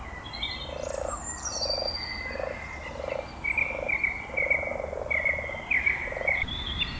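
A male common frog calls nearby in a steady run of soft, low, purring croaks about twice a second, with thin bird chirps above it in the background.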